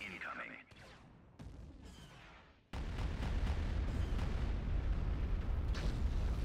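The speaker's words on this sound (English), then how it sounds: "Bombardment incoming." Artillery bombardment in Star Wars: Empire at War hits with a heavy boom, then settles into a dense, continuous rumble of blasts, with a game voice and scattered battle sounds heard before it.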